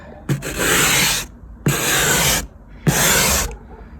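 A car ice scraper scrapes across a car window in three long, loud passes, each a dense rasping stroke of about a second, separated by brief pauses.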